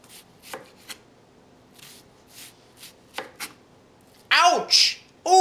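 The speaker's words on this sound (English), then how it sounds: "we cut the onion." A knife cuts through an onion on a board in soft, scattered strokes with quiet gaps between them, followed by a brief burst of speech near the end.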